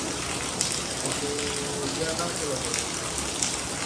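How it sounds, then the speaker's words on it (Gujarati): Steady rain patters on surfaces in a dense, continuous hiss, with a faint voice briefly in the background. "આવા વરસાદમાં કેમ નીકળવું?"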